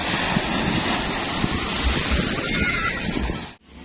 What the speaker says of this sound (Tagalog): Malakas yung alon, beb, ah. Malakas yung alon.